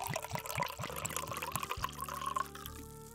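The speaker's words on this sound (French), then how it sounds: "Je le verse." Wine poured into a kiddush cup at a Passover seder, a short gurgling pour with a rising fill tone as the cup fills, close and quiet with no talk.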